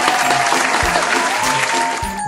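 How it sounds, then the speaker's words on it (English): A short burst of recorded applause plays during an online grade 10 English class, with bright clapping mixed with faint tonal ringing, loud and without talk. "may we give ourselves a round of virtual applause"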